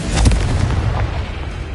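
Confringo blast spell fired in the video game Hogwarts Legacy, heard as a loud booming burst with a rumbling low-end tail that fades out over under two seconds.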